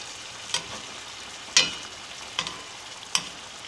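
Fish sizzling in a pan with butter, a steady soft frying hiss broken by four sharp clinks or spatula scrapes spaced about a second apart, close and fairly quiet, with no talking.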